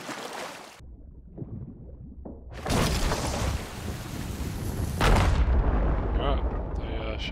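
Gunfire and booms in the Sea of Thieves pirate game, a sharp loud burst near the start and heavier blasts around the middle, mixed with ongoing game noise and water-like rumble.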